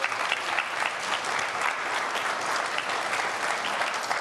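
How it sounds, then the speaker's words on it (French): A church congregation at an Easter Mass applauding, a dense, steady wash of many hands clapping throughout, fairly loud and without speech. "Est-ce qu'on peut applaudir pour Jésus?"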